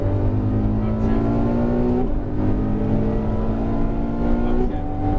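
Ferrari F12 on a racing circuit accelerating hard out of a corner, engine note climbing steadily then dropping sharply at an upshift around two seconds and again near the end, loud and continuous with the car's interior rumble beneath.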